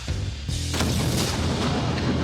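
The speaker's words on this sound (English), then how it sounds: "we're going to use black powder in a cannon to fire a 6-inch nail" A black powder cannon fires a 6-inch nail once with a loud, deep boom, followed by a rumbling roar that lingers.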